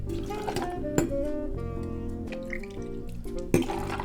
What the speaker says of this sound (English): Ignore all the splashing, that's part of it.